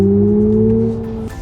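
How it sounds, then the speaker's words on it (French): Synthetic engine sound of a BMW iX3 electric SUV, composed by Hans Zimmer: a steady, close, humming tone that holds and then drops away abruptly near the end. "J'aime pas trop que les voitures électriques fassent des faux bruits de moteur."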